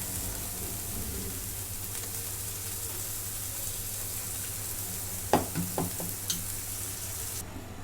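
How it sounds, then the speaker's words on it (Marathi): Pav bhaji mixture sizzling in a pan, a soft steady fry with a few sharp scraping stirs of a spoon near the end, no talk. "परतून घेतलं आता हे मिश्रण मी त्यात टाकून घेते"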